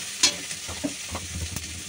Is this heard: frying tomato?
yes